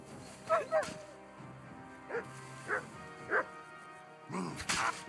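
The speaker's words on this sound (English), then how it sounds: "Fucking dog." A dog in the video game Kingdom Come: Deliverance II barks and yips several times in short separate bursts, fairly close, with a voice briefly heard over them.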